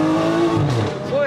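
A turbo-upgraded BMW 335i spins its wheels in third gear, a rising engine whine with tire noise running under close, overlapping talk.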